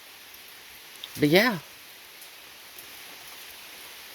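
Rain falls outside as a steady, faint wash of noise, with one short spoken word partway through.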